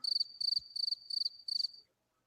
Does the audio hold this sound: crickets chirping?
yes